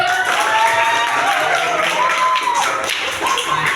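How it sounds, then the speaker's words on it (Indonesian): A class of students claps hands in a classroom lesson, a close, busy patter of taps that holds steady throughout, with a voice speaking over it. "Tepuk tangan dong."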